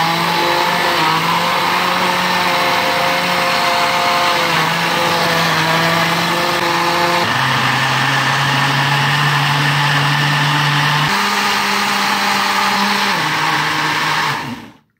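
A kitchen blender grinds honeydew melon pieces for juice, a loud steady motor whir with shifting pitch as the chunks break down, running continuously for the whole stretch before cutting off at the end.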